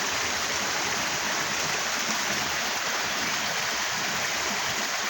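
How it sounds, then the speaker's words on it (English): Westbank Creek flowing steadily nearby, a continuous broadband rush and babble of water with no pauses, loud and close, with no voices. "Isn't that sound of the water flowing?"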